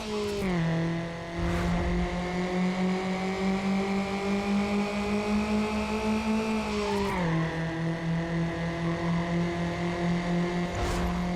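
Mazda Miata race car engine from the Need for Speed Underground racing game, holding a loud steady high rev with a sustained whine, briefly dropping in pitch near the middle before climbing again, with faint whooshes.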